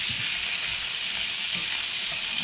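Boneless pork chops frying and browning in a hot pan give off a loud, steady close sizzle, with faint stirring and scraping sounds in it.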